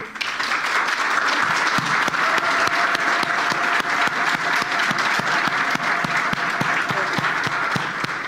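Steady, loud audience applause fills a public event hall with a Congolese minister, dense clapping running throughout with a faint tonal hum beneath and no speech.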